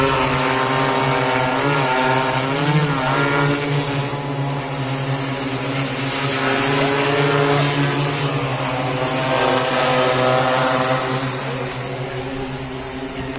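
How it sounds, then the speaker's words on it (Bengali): An agricultural spraying drone flies over a farm field in West Bengal, spraying pesticide from a tank of ten to twelve litres. Its propellers give a loud, steady buzzing whine that rises and falls in pitch, with no speech. "জমিতে ওষুধ পেশ করার ড্রোনের মাধ্যমে"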